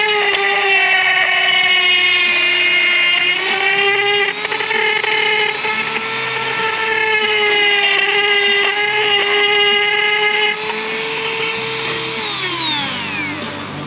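A power tool whines steadily at close range while modifying a metal adapter to fit a bolt hole on a 2021 Ford F350 10R140 transmission case, holding a high pitch before winding down at the end.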